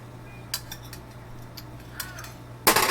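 A fish-shaped plate is set down on a table beside instant noodles, with a few light, close clinks and then a louder, brighter clatter as it lands at the end, over a steady low hum.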